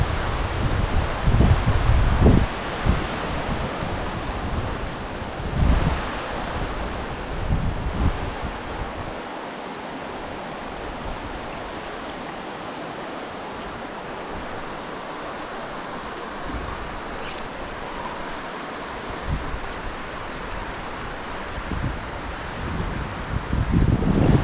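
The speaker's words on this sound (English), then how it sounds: "Wind's picking up again." Wind picking up outdoors while trout fishing, a broad, rushing gusty roar with mic buffeting, strongest in the opening seconds and again toward the end, steady and near with no talk.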